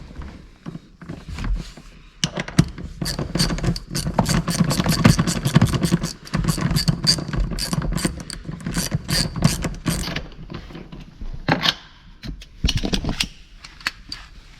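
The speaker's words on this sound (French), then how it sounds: "avec la douille de 16, vous enlevez les 4 boulons" A ratchet with a 16 mm socket clicks rapidly and loudly in long runs of pawl ticks, undoing the front seat bolts of a BMW E46 3 Series coupe, with short pauses between bursts.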